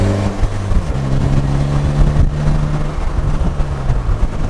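A Polaris Slingshot with a 175 horsepower Ecotec engine drones loudly and steadily under acceleration, its engine tone climbing slightly amid strong wind rush.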